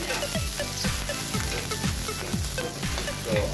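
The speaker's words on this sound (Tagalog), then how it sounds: "susutayin na natin ang ating garlic and onion. Sutay lang natin hanggang golden brown o lumabas ang aroma niya." Garlic and onion sautéing in a pan, a steady bright sizzle with repeated rhythmic scraping strokes from stirring, close and continuous with no talking.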